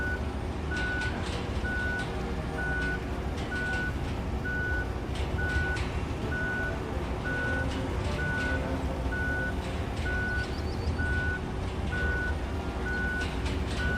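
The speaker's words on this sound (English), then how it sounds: "This thing beeps when you go in reverse," Backup alarm on heavy road-building equipment in the video game RoadCraft, a steady beep repeating about every half second for the whole stretch over a constant low engine rumble.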